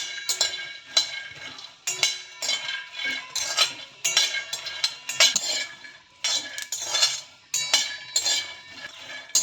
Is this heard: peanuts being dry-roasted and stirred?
yes